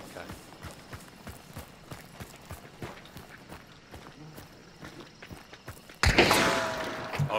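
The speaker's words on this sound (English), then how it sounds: "I'm hearing footsteps other places." Footsteps in the video game Hunt Showdown, a regular series of soft thudding steps at walking pace, followed by a sudden loud burst near the end, with a voice speaking at times.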